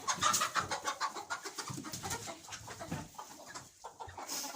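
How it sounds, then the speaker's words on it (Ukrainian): Several farmyard hens cluck and murmur close by, a busy overlapping chatter of short calls with a few sharper notes, no talking. "Ось загнали курей, які гуляли."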